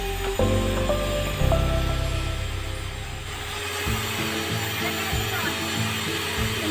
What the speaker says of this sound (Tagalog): yung ginagamit kong grinder po ay sira na po yung switch, kaya direct na lang po yung pagkagamit po